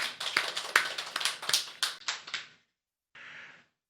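Church congregation clapping: brisk, close, separate hand claps for about two and a half seconds, then a pause and one short final patter.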